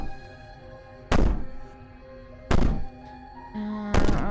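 Heavy banging in the video game Slay the Princess: three loud, hollow thuds spaced over a few seconds, each like a blow against a door, with a dull lower knock between them and no voices.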